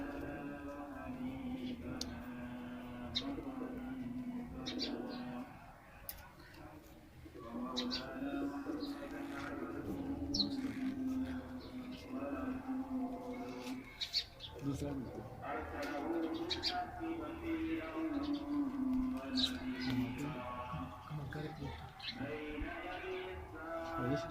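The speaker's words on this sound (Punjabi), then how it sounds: "ਇਹ ਭਾਈਜਾਨ ਪਿਛਲੇ ਸਾਲ ਦਾ ਸਾਡਾ ਬਹੁਤ ਹੀ ਅੱਛਾ ਕਬੂਤਰ ਹੈ, ਕਮਗਰਾਂ ਦੇ ਵਿੱਚੋਂ ਹੈ" Kamagar pigeons on a rooftop coo steadily, mixed with scattered chirps from other birds and a continuous background murmur.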